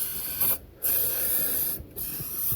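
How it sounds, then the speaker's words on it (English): WD-40 lubricant sprayed from an aerosol can over old parts, heard as continuous close hissing blasts broken by two short pauses. "I'm just going to spray everything up with WD-40"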